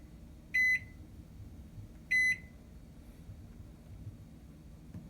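A Toshiba ML-EM45P countertop microwave's control panel gives two short, sharp electronic beeps about a second and a half apart, clear and close over a faint low room hum, with no voices.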